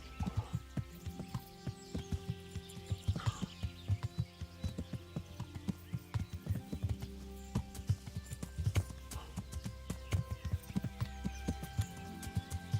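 A horse's hooves clop at a steady, uneven walking rhythm with faint neighing in the video game Kingdom Come: Deliverance, the footfalls sharp and continuous throughout under a quiet in-game background.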